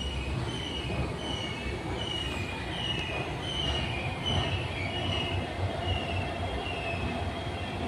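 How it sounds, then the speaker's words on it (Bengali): A train rumbles steadily with high metallic wheel squeals running throughout, continuous and fairly close. "হ্যাঁ দেখাচ্ছি, ট্রেন ছেড়ে দিয়েছে।"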